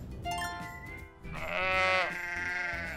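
A sheep bleats twice up close, a short wavering call followed by a longer, louder quavering one.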